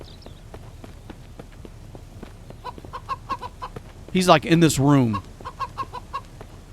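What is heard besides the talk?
chicken clucking in video game Mist Survival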